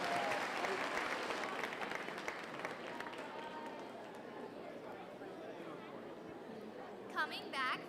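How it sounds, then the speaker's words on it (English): Audience applause fills a youth fair market hog showmanship ring, a dense steady clapping that stays loud for several seconds, then thins to a lighter patter, with crowd chatter and a brief voice near the end. "Give them a big round of applause as they exit."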